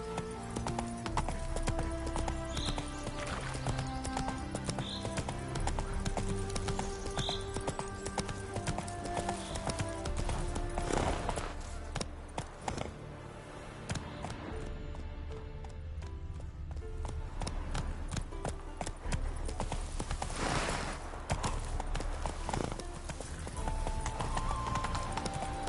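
Horse hooves clip-clopping at a steady galloping rhythm in The Witcher 3, close and continuous, with faint snorts and a background music score, no talk.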